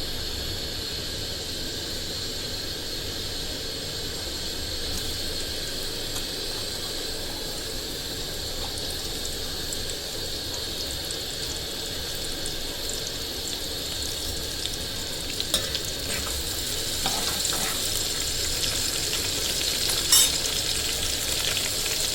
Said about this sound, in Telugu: నూనె కాగిందండి, ఉల్లిపాయలు వేసుకుందాం.